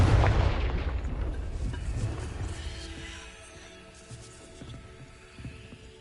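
A heavy Confringo blasting-curse explosion in Hogwarts Legacy bursts loud and close at the start, then rumbles and decays into a fading crackling tail with faint debris patter.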